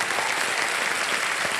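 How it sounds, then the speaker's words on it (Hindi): Steady, dense applause from a studio audience at a televised quiz show, loud and even throughout with no break or voice on top. "तालियां बज जाए"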